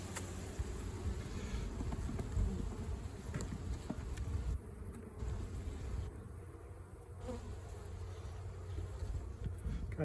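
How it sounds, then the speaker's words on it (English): Honey bees hum steadily around a hive box during almond pollination, a dense continuous buzz heard up close that carries on unbroken throughout, with no voices. "there's bees right across. Nice looking box of bees."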